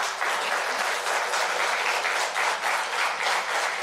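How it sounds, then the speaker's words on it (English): Audience at a political candidates' debate applauds with steady, dense clapping that fills the room, loud and continuous throughout. "If you could hold off your applause till the very end"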